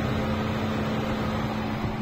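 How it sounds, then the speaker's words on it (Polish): Radiator cooling fans under the hood of an Opel Astra J with the A14NET engine, a loud, steady whirring drone with a constant hum that runs without a break. "Wentylatory chodzą cały czas, non-stop."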